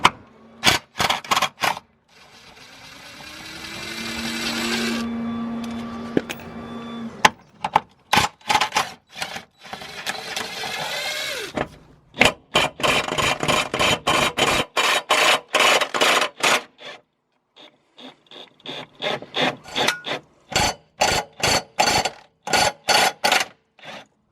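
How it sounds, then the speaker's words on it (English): Bolts on a BMW E60 subframe are loosened with hand tools: rapid ratchet clicks come in repeated bursts, mixed with scraping and a longer stretch of a power tool whirring, all close with short pauses between. "start loosening the 4 main subframe bolts that bolts the subframe to the chassis"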